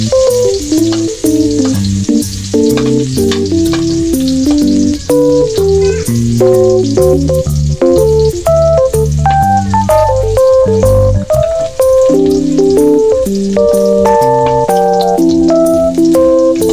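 Garlic fries hard in a pan for chicken afritada, a loud, continuous crackling sizzle with dense popping and spattering throughout, close up and without talk.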